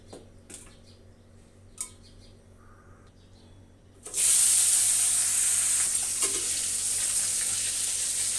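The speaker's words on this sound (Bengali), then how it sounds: "এখন আমি মাছগুলো সুন্দর করে ভেজে নেব।" Koi fish are dropped into hot oil in a wok, setting off a sudden loud, close sizzle that stays steady after a few quiet clinks.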